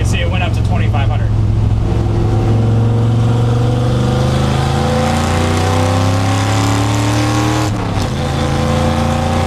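A Ford F100 truck engine with a Tremec 5-speed manual revs up loud and close, pitch climbing steadily as it pulls through a gear, then briefly dropping at a shift.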